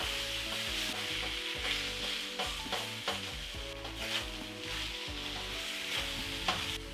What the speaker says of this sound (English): Once the bottom layer gets some color, you want to come in and just give it a turn.